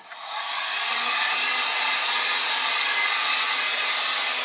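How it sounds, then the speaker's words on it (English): Heat gun running steadily at close range while drying fresh paint on an old dresser, a constant loud airy roar with a faint low hum, holding without a break after a short ramp-up. "I'm going to dry this with the heat gun."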